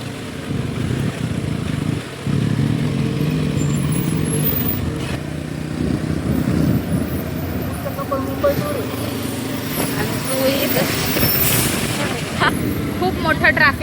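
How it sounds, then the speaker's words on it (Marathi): Road traffic on the way to Igatpuri near Nashik, a continuous rumble of passing cars, motorcycles and heavier vehicles, with people talking over it throughout. "and this is the traffic."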